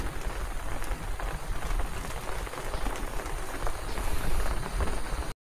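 Steady, dense patter of rain falling and drumming on a surface, continuous and fairly loud throughout before cutting off at the very end.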